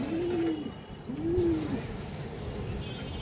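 A pigeon, a high-quality silver male, coos twice in close succession with soft rising-falling calls, nearby and clear over low background noise.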